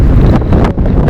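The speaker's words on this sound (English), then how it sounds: "The wind was incredible" Strong wind roars across a mountain glacier and ice field in Colorado, a loud, continuous buffeting rush right against the microphone with brief gusting dips and surges.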